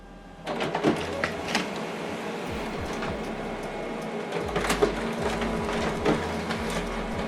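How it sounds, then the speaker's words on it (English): An HP LaserJet printer prints double-sided, running steadily with mechanical whirring, rolling and clicking, paper feeding through in bursts, close and moderately loud. "So it's printing on both sides."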